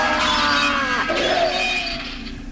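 Polished glass shatters as an audio drama sound effect, a loud, dense crash with ringing, tinkling shards that slowly thin out and fade.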